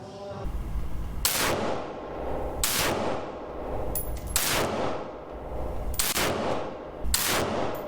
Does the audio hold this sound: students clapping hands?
no